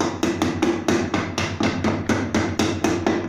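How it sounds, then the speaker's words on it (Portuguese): A small hammer taps dents out of an old aluminum kettle, sharp metallic strikes repeating at a quick, fairly even rhythm, loud and close with no talk. "Tem um martelinho aqui que eu uso ele também."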